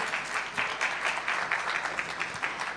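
An audience at a women's economic forum in Kenya applauds, with a dense, moderately quiet burst of clapping that holds steady for a few seconds.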